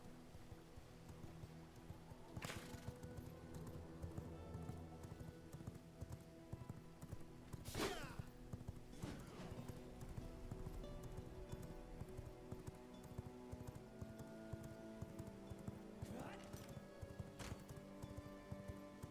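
Steady rhythmic hoofbeats of a galloping horse in the video game V Rising, over a continuous low rumble, with a few sharp clattering bursts standing out.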